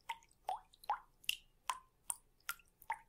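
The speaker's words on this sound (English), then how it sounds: "It's like there's a leak." Water drips from a leak in a steady rhythm, about eight distinct plinking drops spaced evenly, faint and isolated against near silence.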